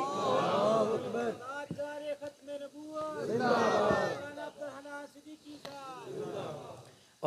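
At a religious gathering, a crowd chants in response to a takbeer call. Loud waves of many voices rise twice, each followed by a single amplified voice, and the exchange echoes in a large open space.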